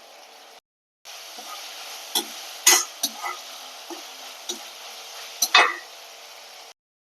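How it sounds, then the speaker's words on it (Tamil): Cut tomato sautéing in a pan with already-softened onion for sundakkai kara kuzhambu, giving a steady low sizzle broken by a few sharp spatula clinks and scrapes against the pan; no voices. "ஒரு தக்காளியை கட் பண்ணி நல்லா வதக்கிக்கலாம்"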